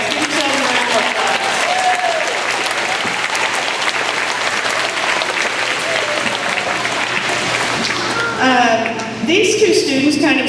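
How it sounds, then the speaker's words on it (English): A school assembly audience claps in dense, sustained applause for about eight seconds, then it thins out and voices speak close by. "So give yourselves a round of applause."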